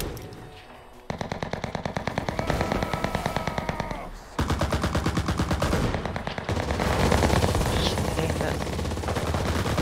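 Sustained rapid machine-gun fire in the shooter CRSED, long rattling automatic bursts broken by brief pauses, loud and close, running almost continuously across the stretch.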